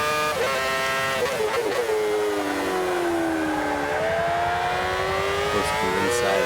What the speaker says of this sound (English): Just trying to warm up the tires at the moment, maybe giving it a bit more gas than I should.